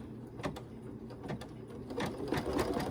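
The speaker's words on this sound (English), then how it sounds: "this is very dense when it stitches on top of all those stitches, so I think slowing the speed down is going to make a big difference in the machine" An embroidery machine stitches a dense design at reduced speed, a steady quick mechanical chatter with regular needle thumps, close and moderately quiet, with no talking.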